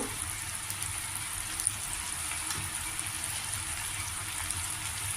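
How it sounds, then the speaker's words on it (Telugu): Ridge gourd pieces cook in a covered pan, giving a steady, even, soft sizzle that stays continuous throughout with no voices. "బీరకాయ ముక్కలు మగ్గుతున్నాయి"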